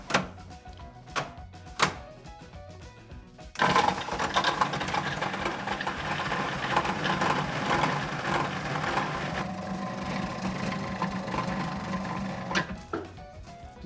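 A food processor or blender whirs steadily for several seconds, blending herb butter with lemon zest, and is preceded and followed by a few sharp knocks and clatters nearby.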